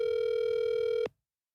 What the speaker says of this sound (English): The phone's just ringing.